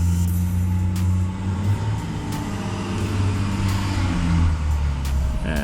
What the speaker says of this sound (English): FedEx is going by.